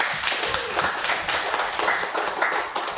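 A classroom group applauds a student at the end of a teaching-practice presentation, with dense, steady clapping that holds at an even level for the whole stretch.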